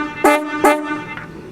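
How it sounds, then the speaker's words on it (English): A 1950s truck horn sounds two loud, brassy honks in quick succession, each short and strong, followed by a fainter trailing toot. "Do you want to honk the horn again?"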